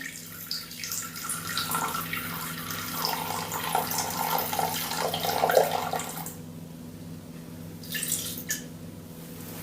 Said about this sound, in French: 220 g d'eau à température ambiante